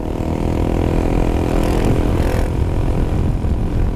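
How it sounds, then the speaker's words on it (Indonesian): Rushing wind buffets the rider on a Honda Forza 250 scooter under way, with a loud, steady roar mixed with low engine drone and a brief gust swell midway. "Ntar coba kalau kerasa nggak suara anginnya gitu loh."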